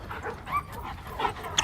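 LAPD K-9 police dog during protection training, giving a few sharp barks and yelps in quick succession at close range with some handling noise.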